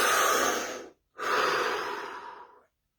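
A deep breath drawn in and let out, close and loud, in two long rushing strokes split by a brief silence and trailing off at the end.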